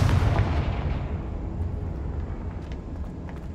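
Confringo fire spell from Hogwarts Legacy going off as a loud, heavy blast at the start, its boom fading into a rumbling tail over a few seconds.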